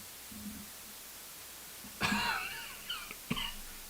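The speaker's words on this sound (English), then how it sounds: "Sorry about the cough." A single harsh cough bursts out at close range after a quiet stretch, followed by a couple of smaller raspy throat noises and breaths.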